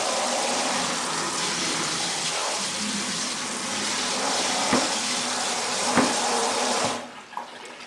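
Water runs steadily into a kitchen sink, a broad constant gush at close range with a few faint clinks, then cuts off near the end.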